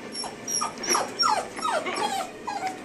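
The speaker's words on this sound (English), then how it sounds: "Puppy, you can't... stop it. Stop barking." A pet puppy whimpers and yelps in a run of short, high, sliding cries, roughly one every half second, close and insistent, with no one speaking.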